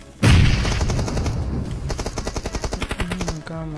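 A dense volley of video game weapons opens with a heavy blast, then settles into a steady rapid automatic rattle that stops abruptly; loud and close, with no talking.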